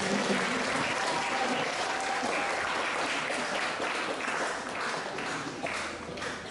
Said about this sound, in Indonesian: mari kita berikan aplaus yang meriah untuk kelima pemateri